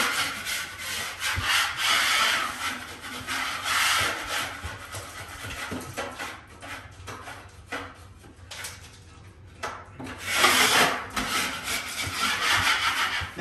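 Sharp spatula scraping excess joint compound off a wall, a close, continuous rasping of repeated strokes that fade briefly and then return stronger.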